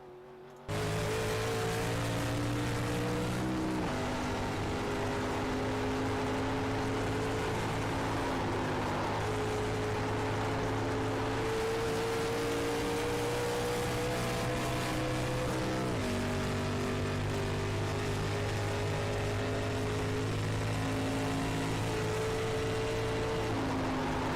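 A vintage race car engine during the Champion Spark Plug 100 roars loud and constant from inside the car, holding a steady drone with audible gear changes around the five- and sixteen-second marks.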